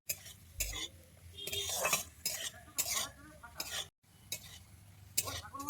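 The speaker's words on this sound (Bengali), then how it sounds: "এরপরে আমি কাজু কিশমিশটাকে ভেজে নিচ্ছি এটা কিন্তু হালকা আঁচেই করতে হবে" Cashews and raisins frying gently in ghee over low heat, a soft steady sizzle broken by repeated spoon scrapes and stirring clinks against the pan, close and fairly quiet with no talk.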